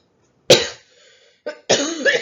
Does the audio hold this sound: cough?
yes